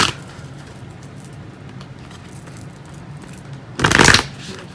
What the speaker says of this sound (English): Pull some cards out.